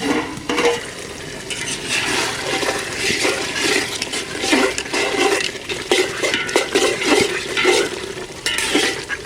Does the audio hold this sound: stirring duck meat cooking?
yes